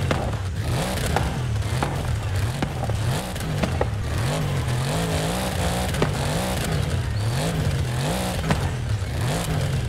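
An Audi RS7 with four-wheel drive accelerates in the racing game Forza Horizon 5, its engine droning loud and steady with rising and falling revs as gears shift, the engine heard alone throughout.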